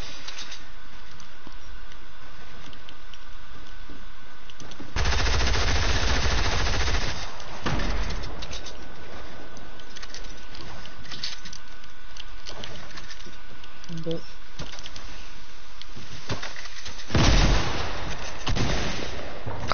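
SMG gunfire in Fortnite: dense rapid bursts of automatic shots, loud and continuous through much of the stretch, with a heavier sustained burst near the middle and another sharp flurry near the end.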